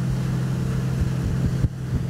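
Ranieri Next 290 SH console boat cruising at a low 15 knots, a steady droning engine hum with water and wind rush, continuous and close.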